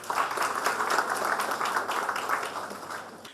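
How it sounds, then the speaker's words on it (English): Audience applause for a speaker at a career seminar, a room of hands clapping with individual claps audible in the mix, fairly loud and steady before tapering off toward the end. "Let's give her a round of applause."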